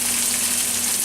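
Green beans frying in a pan for a chicken and pineapple stir-fry, a brief, fairly quiet, steady hiss of sizzling oil.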